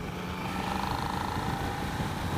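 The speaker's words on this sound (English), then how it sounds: "Rolling on third here. And it just gently bumps the rev limiter." A 2017 Suzuki SV650 motorcycle engine revs hard in third gear, a loud, steady drone that runs the whole time with rushing wind noise over it and no voices.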